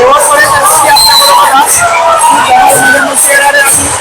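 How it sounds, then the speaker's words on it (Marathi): A huge crowd gathers for the Chintamani Ganpati idol arrival procession at Chinchpokli, a dense loud hubbub of voices and cheering pressing close, with someone talking over it. "प्रचंड असा जनसमुदाय इकडे आलेला आहे"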